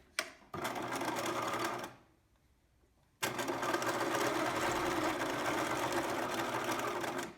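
A sewing machine hums loudly as it stitches fabric for a pillow, running for a stretch, stopping briefly, then starting again in a long, steady burst.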